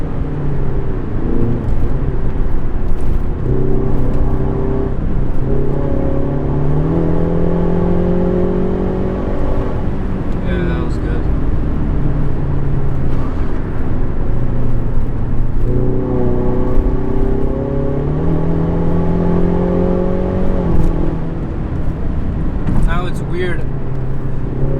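A Ford Mustang EcoBoost pulls hard in third gear, the engine note climbing steadily in pitch, easing briefly, then climbing again. It sounds loud and close from inside the car, with a voice talking over it.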